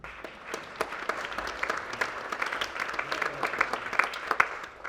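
An audience applauds at a film screening and debate, a dense, steady round of clapping sustained for several seconds.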